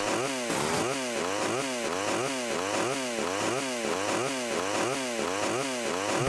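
Remastered chainsaw effect from the GTA Definitive Trilogy, a loud steady motor drone with a rapidly repeating, looping rev pattern that cycles about once per second throughout, with no voices.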